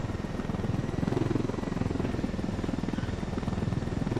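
A helicopter in the video game Ghost Recon Wildlands flies with a loud, rapid, steady rotor chop over a deep engine rumble, continuous and close with no talking.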